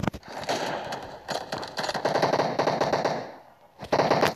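Rapid automatic gunfire in the PUBG Mobile video game, several bursts of crackling shots with brief pauses between them, loud and close, with a final burst after a short gap.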